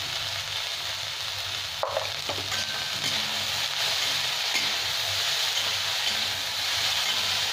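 Capsicum and other vegetables for chowmein sizzle steadily in a hot pan, seasoned with salt and pepper, with a continuous frying hiss and occasional scrapes of stirring, close and fairly loud, no talking.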